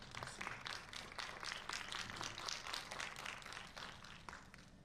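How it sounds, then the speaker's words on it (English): Sustained audience applause at a panel discussion on AI and sustainable development, dense overlapping claps filling the room at a steady level throughout, with no voices. "Please have a big round of applause."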